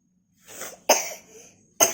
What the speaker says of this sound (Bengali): এই যে কাশছে